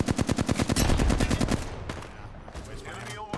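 Automatic gunfire in the battle royale video game Apex Legends, a fast rapid burst of loud shots for about a second and a half, then scattered quieter shots and game sounds.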